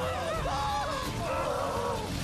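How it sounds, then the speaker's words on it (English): Enemies in The Witcher 3: Wild Hunt scream together in a haunted house, wavering overlapping wails over a dense rumbling game background, loud and steady. "I like the synchronized screaming. It's a good touch."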